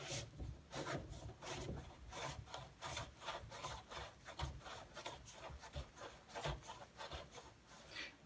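A grease gun barrel being screwed back onto its head gives a steady, rhythmic scraping and rubbing of threads, repeated strokes close up and fairly quiet, with no talking.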